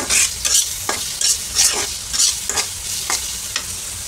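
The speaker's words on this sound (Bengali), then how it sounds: "পেঁয়াজটা হচ্ছে ভালো করে ভেজে নিই।" Onions fry in a pan with loud close sizzling and rhythmic stirring, the spatula scraping in repeated strokes about every half second, with no voices.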